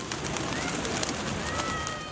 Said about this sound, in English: And the white pigeons of Mazar are part of it.